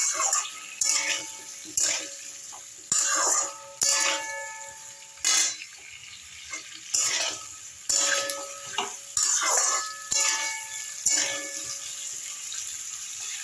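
Potato, bottle gourd and papaya frying with salt in a pan, a steady loud sizzle broken by repeated rhythmic scrapes and clinks of a spatula stirring, close and without talk.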